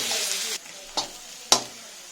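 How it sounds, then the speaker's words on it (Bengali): Onions brown in a hot pan with a brief burst of close sizzling hiss, followed by two quick scraping stirs, and no talk. "পেঁয়াজটাকে ব্রাউন করে ভাজবো"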